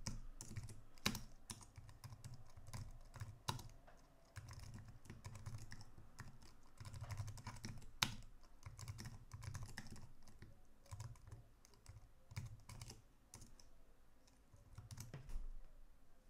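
Someone types a command on a computer keyboard, with quiet, close key clicks in uneven bursts and short pauses, and occasional heavier strokes like the space or enter key.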